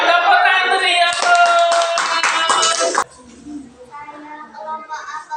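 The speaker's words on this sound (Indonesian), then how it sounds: "Ya, tepuk tangan meriah." A classroom of children claps in a bright burst of rapid, overlapping hand claps for about three seconds, then stops abruptly and leaves quieter room noise and faint voices.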